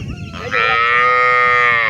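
A six-tooth Friesian dairy cow in her second lactation gives one long, loud, close moo while being walked, after a brief scuffle of background noise.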